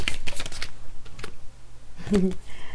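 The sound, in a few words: drawing the last tarot card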